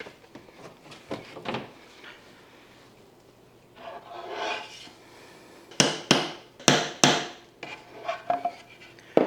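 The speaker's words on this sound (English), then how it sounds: "Using a hammer here, we're just gonna give these a tap." Several sharp taps and knocks of a hammer on wooden pegs while assembling an IKEA HEMNES two-drawer nightstand, some in quick pairs, mixed with rubbing and scraping sounds between strikes.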